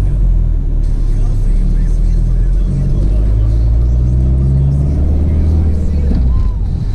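A car drives through the town of Jurmala in Latvia, its steady loud road rumble and engine drone continuing throughout, with low tire noise and a faint passing vehicle late on.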